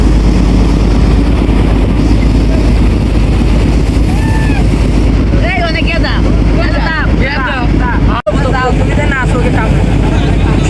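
A trawler's engine drones steadily and low on a river in rain, with another sand-dredging trawler passing nearby; voices talk over the continuous rumble through the second half.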